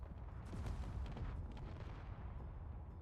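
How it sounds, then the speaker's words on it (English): A large ship explodes in the space combat game Space Engineers, with a rolling run of deep booms and crackling blasts that swell and then fade into a lingering rumble, heard fairly quietly. "Oh, well, that's a large explosion."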